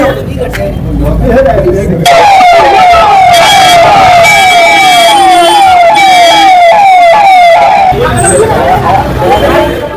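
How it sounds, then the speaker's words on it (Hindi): Ambulance siren wailing loudly as the vehicle arrives inside Patna's Beur jail, its rising and falling tone repeating steadily for most of the stretch, with crowd murmur and voices around it. "एम्बुलेंस पहुंची है जेल के अंदर"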